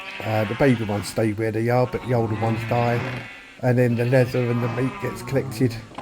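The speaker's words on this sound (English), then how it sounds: "You can hear all these sheep in the background." Sheep bleat repeatedly on a farm in the Minecraft video game, short bleats sounding steadily in the background beneath someone talking throughout.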